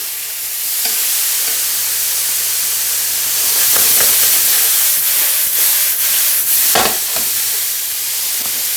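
Brussels sprouts, mushrooms and onions frying in a pan, a steady loud sizzle and hiss with scraping and rattling bursts as the pan is tossed, close up and continuous.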